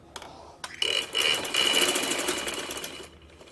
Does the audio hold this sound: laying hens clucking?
no